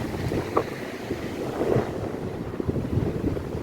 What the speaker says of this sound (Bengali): এত সুন্দর লাগে মানে সমুদ্রের যে একটা আওয়াজ